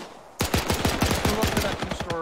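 Rapid bursts of gunfire from a WWII video game firefight crack out loud and close after a brief quiet start, a steady string of evenly spaced shots continuing to the end.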